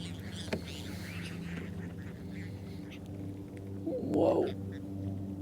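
Many birds call around a kayak on winter water, with a louder duck-like squawk near the middle standing out above a steady low hum and scattered faint calls.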